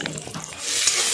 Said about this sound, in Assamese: মছলাখিনি একেলগে ভালদৰে মিলাই ভাজি লওঁ।